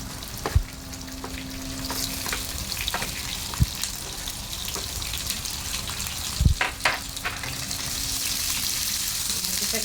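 Onions sauté in a frying pan with a steady, soft sizzle, broken by a few sharp clanks of a utensil against the pan.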